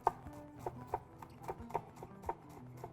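A knife minces a bunch of parsley with its stems on a cutting board, soft evenly spaced chops with a steady rhythm, close and fairly quiet.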